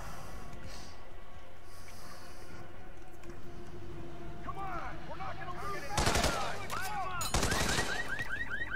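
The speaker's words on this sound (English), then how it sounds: "there goes a magic flashbang again" Repeated broadband bursts in Hitman 2, set in Marrakesh, strike around the middle of the clip over a steady game soundscape. They could be a flashbang or nearby gunfire going off. A few brief whistling chirps come and go between them.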